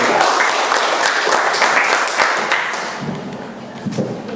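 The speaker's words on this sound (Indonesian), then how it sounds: "Berikan tepuk tangan untuk Pak Guru." Classroom students applauding their teacher, a lively patter of many hands clapping that thins and fades, then gives way to softer taps and murmuring.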